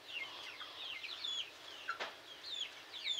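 Many laying hens in a poultry shed cluck and chatter together in a busy, overlapping murmur, moderately distant, with occasional sharper calls standing out.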